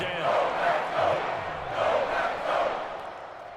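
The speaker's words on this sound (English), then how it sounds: "The crowd getting into it as we come up on a big 3rd down" A stadium crowd in Madden NFL 22 cheers in swelling waves ahead of a big third down, a loud, continuous roar that rises and falls in pulses with no speech on top.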